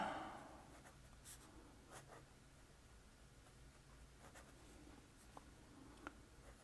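A Wing Sung 601A fountain pen with a fine nib writes on paper, giving quiet, close scratching strokes in short, irregular bursts over a soft background hiss, with no voices.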